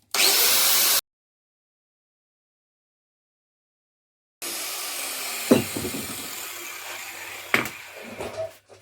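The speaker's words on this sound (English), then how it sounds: "I'll just put the grinder down there on the floor in the puddle" Angle grinder fitted with a flap wheel working a stainless steel exhaust pipe on a Suzuki GSX750 chopper; a short loud burst of grinding, then silence, then rustling, clunks and handling noises close by.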